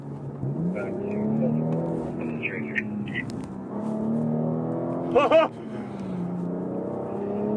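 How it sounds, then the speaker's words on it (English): A BMW 3-litre inline-six car engine drones steadily on a race track at Vancouver Island Motorsport Circuit, its pitch rising and falling under ongoing talk, with a brief sharper burst midway. "So we have ourselves the 3-litre inline-6 that BMW is so well known for"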